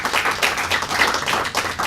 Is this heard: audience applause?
yes